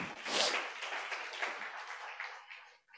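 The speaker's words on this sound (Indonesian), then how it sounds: "Bisa berikan tepuk tangan buat Tuhan kita." Church congregation clapping for God during a sermon: a brief burst of applause, strongest at the start, then thinning and fading over about three seconds, fairly faint and somewhat distant.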